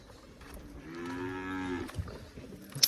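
Cattle on a Punjabi farm at milking time give one long, close, drawn-out moo, followed by a few light knocks and shuffles.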